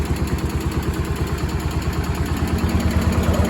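A Cub Cadet 1250 hydrostatic garden tractor, revived after sitting for 20 years, idles steadily close by, its small engine giving a loud, even, rapid chugging pulse with a light mechanical clatter.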